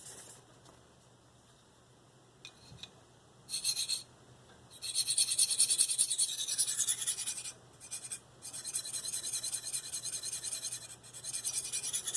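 A D2 steel knife is drawn over a Spyderco medium bench stone in bursts of rhythmic, raspy scraping strokes, close and fairly loud, separated by short quiet pauses.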